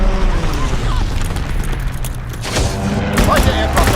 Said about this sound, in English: this is a player-controlled strafe run